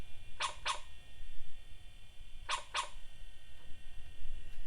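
A dog in a video game barks in two quick double bursts a couple of seconds apart, sharp and clear over low background noise.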